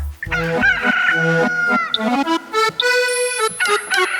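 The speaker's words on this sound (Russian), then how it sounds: "И петушок голосистый голосок." A rooster crows loudly and close in a stage play, several drawn-out calls overlapping with clucking, bright and shrill over a short stretch.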